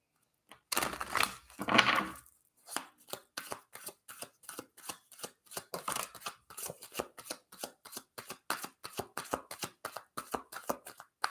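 Tarot cards being shuffled by hand: a couple of loud riffling bursts give way to a long, steady run of crisp, evenly spaced card snaps, close and alone with no talk.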